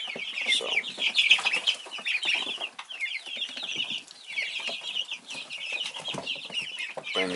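Five breeds of baby ducks peep continuously in a dense, high-pitched chorus, close and moderately quiet, with no talk over it.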